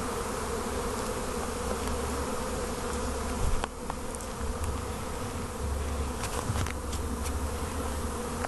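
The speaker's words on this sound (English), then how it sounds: "Bees in a swarm are not aggressive." A dense, continuous buzzing of a honeybee swarm close by, a steady droning hum with no voices.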